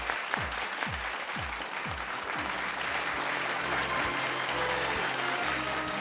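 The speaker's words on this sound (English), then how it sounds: "This calls for a huge, huge round of applause, ladies and gentlemen" Applause at a steel industry awards ceremony, a steady broad crowd clapping under a repeating musical sting with a low swooping tone, fairly quiet and continuous.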